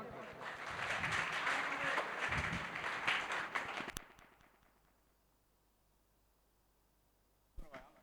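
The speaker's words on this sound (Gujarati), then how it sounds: "અને બધા એકવાર આ 19 સભ્ય માટે તાળી પાડજો" An audience at a student award ceremony claps together for several seconds, loud and dense, before the applause thins out and fades into a quieter room with some voices.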